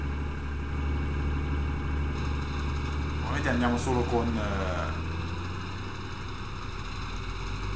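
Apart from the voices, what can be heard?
tractor engine in Farming Simulator 2013 video game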